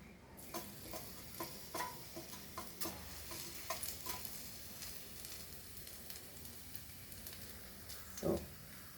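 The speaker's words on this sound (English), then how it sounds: "the oil is hot, and you start scraping it" Raw banana is scraped into hot oil to fry chips, a soft steady sizzle under repeated light scraping strokes, with a louder clack near the end; close and quiet.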